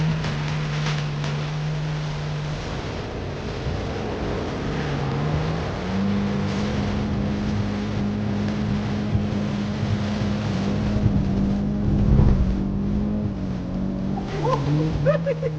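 A Peugeot 206 driving through Sahara sand, its engine droning steadily at low pitch with shifts in revs, under wind buffeting, light knocks and brief voices.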